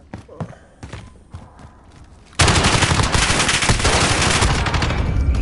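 Video game guns fire in a dense, loud burst of automatic gunfire that starts suddenly partway through and keeps going, after a quieter stretch of scattered clicks and thuds.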